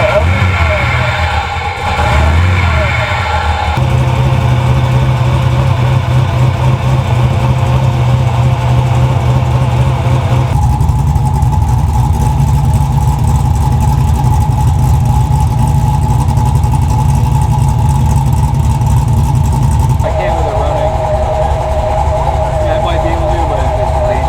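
A 900-horsepower 1969 Camaro V8 starting up and running, a loud rough idle broken by revs that rise and settle back down across the stretch, with people talking over the engine.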